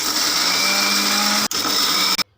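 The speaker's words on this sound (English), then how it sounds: "Grinding." A mixer grinder whirs steadily as it grinds coconut and balloon vine leaves into dosa batter, loud and close, with a brief dip in the motor and then a sudden stop.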